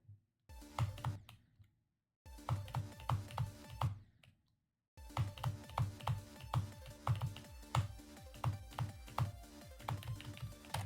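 Rapid mouse clicks tapped out in a repeating rhythmic pattern during a SuperSonic duel, crisp and close, broken by two short silences before continuing steadily.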